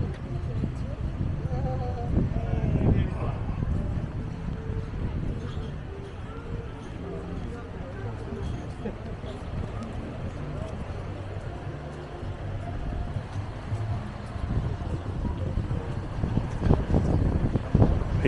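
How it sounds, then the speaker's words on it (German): Strong wind on Gran Canaria at Maspalomas rumbles and buffets the microphone continuously at moderate strength, growing stronger, while a person speaks throughout. "der Wind wird stärker."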